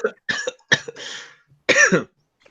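Several harsh coughs, close and loud, come in quick bursts with a brief pause before a final heavy cough.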